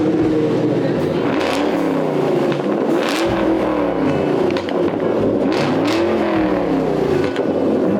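Ford Shelby GT500 with a manual transmission at an outdoor car show, its engine revving loudly and repeatedly, rising and falling close by, with crowd noise in the background.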